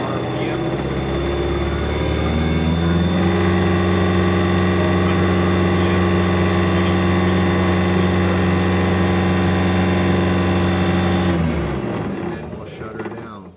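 A motor hums steadily at 670 RPM, a loud, close, even drone with strong low tones that holds for most of the stretch before winding down near the end.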